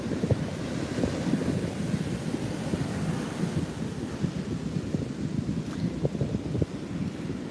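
Big ocean waves rolling in at a beach on a rough day, a continuous roar of surf mixed with buffeting wind against the microphone, steady and fairly loud with no voices.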